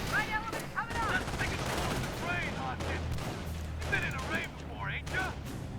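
An MG42 machine gun in Company of Heroes 1 chatters in rapid bursts amid other battlefield gunfire and whistling effects, fairly close and steady across the clip, with a faint voice underneath.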